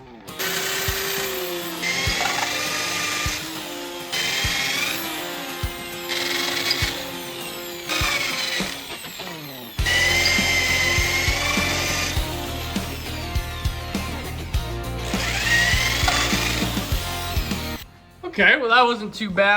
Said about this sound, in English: So let's get those drilled out